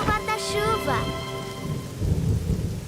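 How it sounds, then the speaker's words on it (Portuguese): Steady cartoon rain hisses and patters throughout. An excited animated voice speaks over the first part, and the rain continues more plainly after it stops. "Ei, tá chovendo! Tá chovendo, tá chovendo!"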